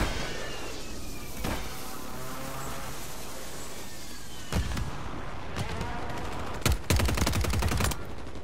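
Video game gunfire: a few isolated loud shots early, then sharper clustered bursts and a rapid volley near the end over a steady background rumble.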